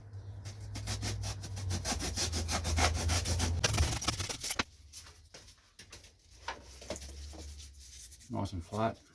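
Dried, expanded costume material is trimmed away in rapid rasping strokes, dense and rhythmic at first and then sparser and scratchier, close and fairly quiet.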